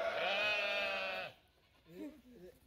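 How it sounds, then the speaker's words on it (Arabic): A sheep at a zoo lets out one long, loud, wavering bleat nearby, followed by a brief quieter animal call. "that was a sheep over"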